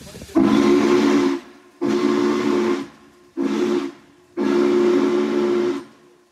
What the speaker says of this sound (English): got to blow the whistle on the Norfolk and Western 611